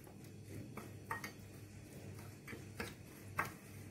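Spices and amchur powder stirred together in a bowl, faint irregular clinks and scrapes of a spoon against the bowl, quiet and close, no talking.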